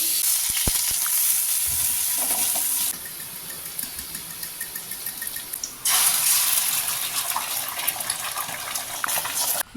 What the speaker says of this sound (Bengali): গাজর আর আলু এগুলোকে একটু ফ্রাই করে নেব